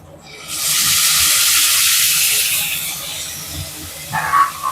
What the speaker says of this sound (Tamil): இப்போ தக்காளியை போட்டுக்கலாம்.